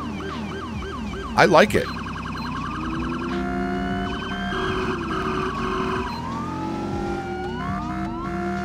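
A custom police siren modded into GTA V on FiveM wails with sweeping, rising and falling tones that overlap other siren patterns, loud and continuous, while a voice speaks briefly over it.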